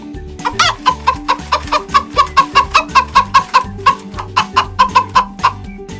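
A hen clucking steadily in a quick rhythmic series of close, loud clucks, over a bouncy backing tune of a children's song about farm animals.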